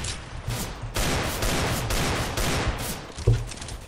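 Rapid, loud bursts of gunfire in the tactical shooter CS GO, during an Operation Bloodhound mission, with dense overlapping automatic shots and sharp reports.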